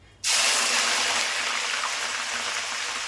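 Onions dropped into hot oil for aloo biryani burst into a sudden loud sizzle that then hisses on steadily, close by and with no talk.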